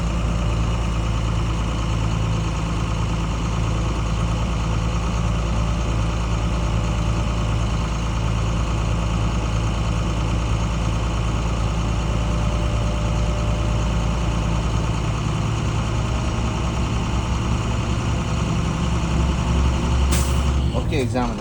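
A diesel truck engine idles with a steady low rumble throughout, close and loud, with a brief hiss near the end.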